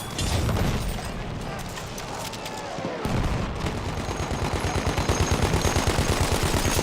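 Mortar fire in the World War I shooter Battlefield 1: a dense, continuous barrage of rapid rumbling blasts and crackling gunfire, loud and close, with heavy thuds building into a steady pounding rhythm in the second half.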